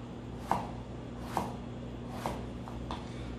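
A knife chopping a peeled carrot roughly on a board, four distinct crisp thuds spaced about a second apart, close and clear over a faint steady hum.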